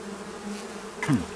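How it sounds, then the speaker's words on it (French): Honeybees buzz steadily at a hive at the end of winter as the colony begins gathering pollen, a continuous low hum with a brief louder buzz as one passes close. "On a vu des abeilles avec du pollen."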